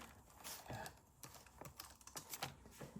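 Someone types a password on an older ThinkPad laptop keyboard, soft irregular key taps at close range, very quiet with faint background hiss.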